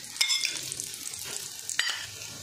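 Small parathas sizzle in ghee on a hot tava, with a soft, steady frying hiss and a few sharper spatters and scrapes heard up close.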